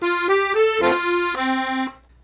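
A 32 bass accordion sounds five sustained chords in a row for the Yankee Doodle melody, one firm chord at the start of each measure, reedy and clear, the last one cutting off into silence.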